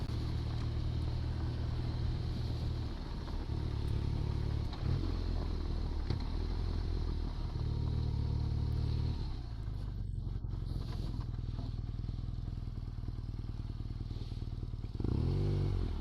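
A BMW R nineT Urban G/S motorcycle engine drones loudly while riding, with throttle surges and wind rush, the pitch rising and falling as the rider opens and closes the gas.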